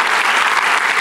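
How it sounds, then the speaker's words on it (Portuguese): Congregation in a church service breaks into steady, dense applause, close and loud, with many hands clapping continuously throughout. "dá uma salva de palmas para Jesus"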